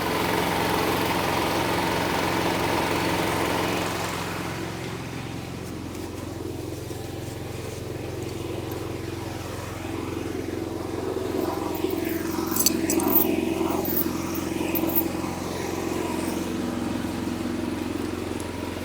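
A Chevrolet truck's engine idles and then works under load while pulling a 1999 Volvo with a Detroit engine forward, a low, steady rumble that shifts in tone partway through, with no voices over it.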